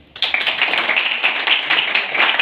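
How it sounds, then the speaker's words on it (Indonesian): A classroom group breaks into brisk, dense clapping that starts abruptly and carries on evenly, close and fairly loud, with no talking over it. "Oke, tepuk tangan."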